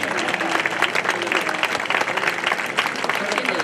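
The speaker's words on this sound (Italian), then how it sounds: "a cui farei un applauso per il suo rientro" Concert audience at a show applauding, a loud, dense, continuous roar of clapping filling the whole moment without a break.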